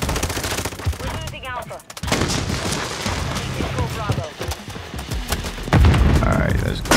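Rapid gunfire from a slow-firing gun in Call of Duty MW3, dense bursts of loud, close shots filling the clip with a short gap near two seconds and a heavier blast toward the end.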